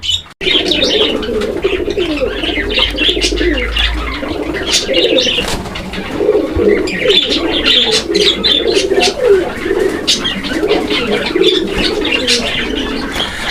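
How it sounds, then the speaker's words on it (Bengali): Fancy pigeons cooing continuously at a crowded pigeon market, a dense close rolling chorus of throaty calls with scattered chirps and a steady background bustle. "এটা কিন্তু হচ্ছে একটা বোম্বাই কবুতরের জোড়া"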